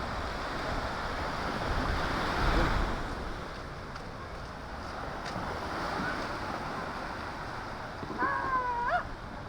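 Seawater waves surge in beneath a bridge where boats are tied, a rushing, swelling wash with wind buffeting the microphone and a faint squeaky tone near the end.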